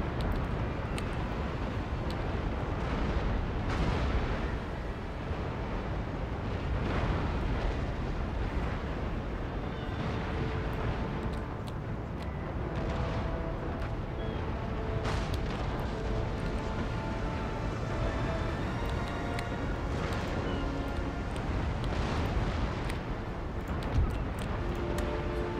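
Warships fire rolling naval cannon broadsides in the strategy game Empire: Total War, a continuous barrage of booming shots and rumbling blasts that fills the whole stretch with almost no talk.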